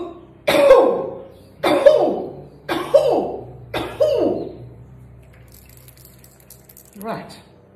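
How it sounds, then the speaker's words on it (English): Four deep, forceful coughs from the chest in steady succession, close and loud, followed by a quieter fifth cough after a pause, with a faint low hum underneath. "One more deep cough from the solar plexus."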